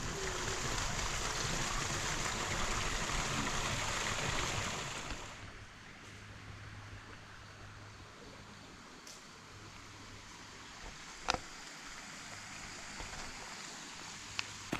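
Creek water pouring over a dam spillway at Mill Creek in an Arkansas national forest, a steady broad rush heard nearby that drops to a quieter, distant flow, with a few faint knocks and no talk.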